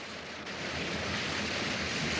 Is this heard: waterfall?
yes